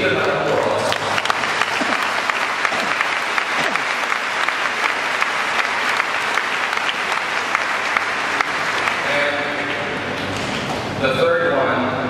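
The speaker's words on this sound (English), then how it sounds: "you can give them that applause." A large congregation applauds at an Ateneo thanksgiving Mass, dense sustained clapping filling the space for about ten seconds before thinning out near the end.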